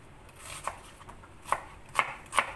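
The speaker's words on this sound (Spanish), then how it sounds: "También la vamos a cortar así en julianas, así finito" A knife slices an onion into thin julienne strips on a cutting board, making a few crisp, close taps spaced irregularly across a quiet background.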